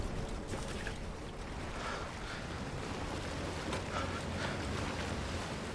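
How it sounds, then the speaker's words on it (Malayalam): In the Resident Evil 8 video game, a boat motor drones as the boat crosses a reservoir. The wash of water is soft and steady, with no talk over it. "ഞാൻ ബോട്ടി കയറി പൊക്കോളാം"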